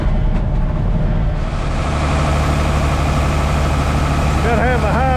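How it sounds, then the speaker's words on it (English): A high-horsepower tractor engine running a grain auger during corn harvest drones steadily at close range, a deep continuous rumble with a faint whining tone rising near the end. "Gotta have a high horsepower tractor run this auger."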